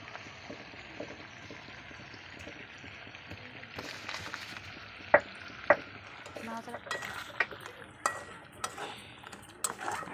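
Masala with elephant foot yam, potato, cumin powder and a little water being sautéed and stirred in a pan, soft sizzling under repeated sharp spoon clinks against the pan, close.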